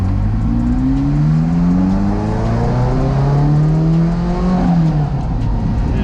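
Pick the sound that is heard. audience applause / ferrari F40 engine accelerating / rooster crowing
ferrari F40 engine accelerating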